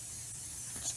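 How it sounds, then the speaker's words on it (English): Crep Protect protector spray misting onto Yeezy 350 Boost Oxford Tan sneakers, a single steady aerosol hiss lasting about a second, close and quiet. "We'll just start spraying right now."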